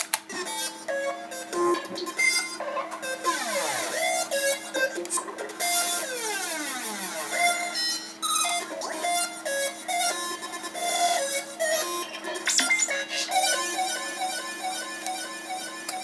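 A glitchy, heavily chopped synth lead plays continuously, with stuttering fragments, pitch sweeps and bright tonal stabs over a steady sustained layer.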